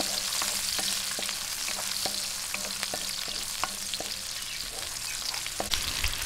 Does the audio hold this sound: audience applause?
no